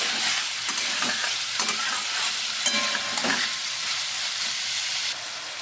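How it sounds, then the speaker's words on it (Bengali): Steady hiss of shrimp frying lightly in hot oil in a pan, with occasional scraping stirs and pops; no talking. "চিংড়ি মাছটা হালকা করে ভেজে নেবো বেশি ভাজলে শক্ত হয়ে যাবে"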